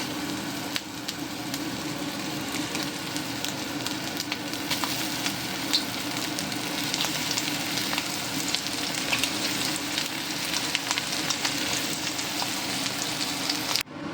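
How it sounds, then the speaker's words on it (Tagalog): Cornstarch-coated chicken wings frying in hot oil, a continuous dense crackling sizzle close up, steady throughout with tiny pops and no voices. "fry na natin ang chicken."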